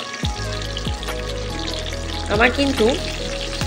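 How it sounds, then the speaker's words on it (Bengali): Capsicum chicken fries in a pan for a home-cooked Chinese-style dish, giving a steady loud sizzle with stirring under background music, while a voice briefly speaks. "দেখুন প্রায় ভাজা হয়েও গেছে"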